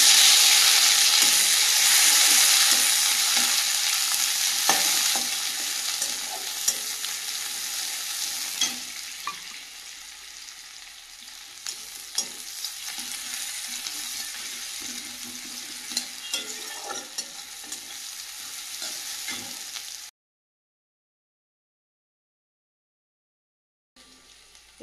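Chopped onion frying in hot oil in a wok gives a loud, continuous hiss and crackle up close, easing slightly over time with occasional stirring clicks, before stopping abruptly into silence.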